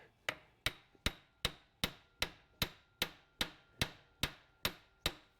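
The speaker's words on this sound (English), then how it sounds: "we're just gonna tap it on this end just a little to overcome that circlip" A hammer taps a Honda Pilot passenger CV axle inward to push it past its circlip, giving about twelve sharp, evenly spaced metallic knocks close by with no talking.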